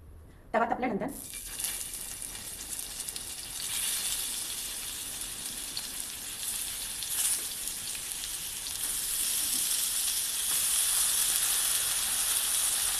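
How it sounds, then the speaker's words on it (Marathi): Potatoes sizzle in oil on a hot tawa over a low gas flame, a sharp burst at the start settling into a continuous close hiss that grows slightly louder toward the end. "तव्यावर तेल टाकणार आहे."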